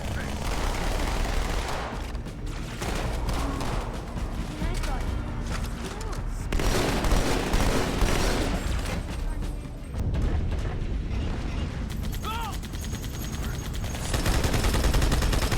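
Rapid, crisp gunfire from a remastered Halo game, with dense bursts of automatic shots and booming impacts running continuously and loudly, accompanied by faint background voices.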